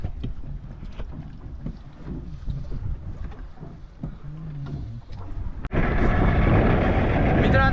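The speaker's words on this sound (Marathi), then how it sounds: "आज वारा खूप आहे मजा येईल" Gusty wind buffets the microphone on a fishing boat at sea, rising abruptly into a loud, steady roar near the end, with faint engine and water noise beneath.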